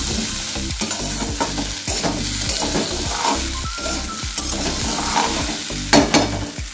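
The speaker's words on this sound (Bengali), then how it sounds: "তো আলু পোস্ত করছি" Aloo posto, potatoes with poppy seeds, cooking in a pan: a steady sizzle with repeated rhythmic stirring scrapes throughout, close and fairly loud, no speech.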